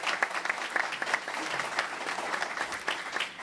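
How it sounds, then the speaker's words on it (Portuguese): An audience at a road-safety education event breaks into steady, dense applause for a guest, many hands clapping together at moderate distance, without any talk over it. "Gostaria também de pedir uma salva de palmas também para Celso Alves"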